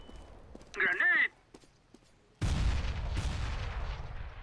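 A grenade goes off on the Inferno map in Counter-Strike. A short shouted voice comes first, then a sudden loud, close blast with a rumbling, crackling decay.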